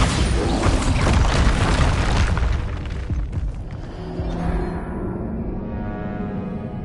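Explosions from the Bombarda blasting spell in Hogwarts Legacy boom loudly with a deep rumbling blast, then fade into debris and lingering low roar over several seconds.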